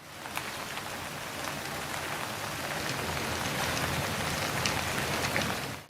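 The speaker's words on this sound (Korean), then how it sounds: "마치 빗소리처럼 사각사각 소리를 내며 뽕잎을 갉아먹는 누에들" Silkworms munch mulberry leaves in a dense, steady crisp rustle, like light rain pattering on a surface, continuous and fairly close.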